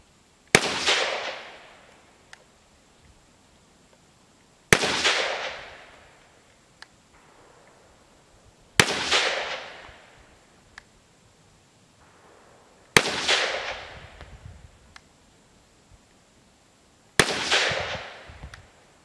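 Ruger 57 carbine in 5.7x28mm fired in five widely spaced sharp, loud shots about four seconds apart, each with a decaying outdoor echo, and no talking.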